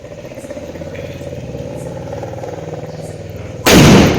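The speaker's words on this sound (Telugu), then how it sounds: "ఆ బాంబు ముట్టిస్తే అది ఎక్కడికో గాళ్ళకి ఎగిరినాయి పేపర్లు" A Lakshmi bomb firecracker bursts at a Diwali celebration, one loud close blast that cuts suddenly through a steady low background rumble near the end.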